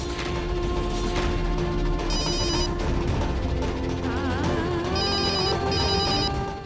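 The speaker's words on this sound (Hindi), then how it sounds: "नमन का फोन है।" A telephone rings in a repeating electronic trill of bursts over a busy dramatic music bed in a Hindi TV serial, the rings standing out clearly in the mix.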